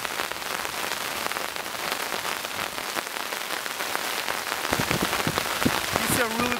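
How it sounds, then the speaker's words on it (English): Rain falls steadily during a thunderstorm in the woods, a dense hiss of drops hitting surfaces close by, with a few sharper drips and taps building near the end. "And just like that, it has started to rain again"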